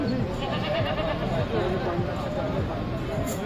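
Goats at a busy livestock market in Lahore bleat repeatedly amid a crowd's chatter and nearby speech, the calls rising over a steady hubbub.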